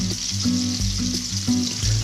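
Onions and garlic fry in a hot pan, giving a loud, continuous close sizzle with a low rhythmic rumble of stirring underneath.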